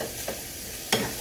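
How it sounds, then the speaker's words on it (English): Beef frying in a home kitchen pan, a steady hiss of sizzling fat with two brief stirring scrapes, close and alone without talk. "we're going to fry this beef here"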